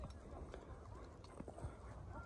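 A saddled Don-breed horse, four years old, clip-clops its hooves in a steady uneven patter, close by and moderately loud, under continuous talking.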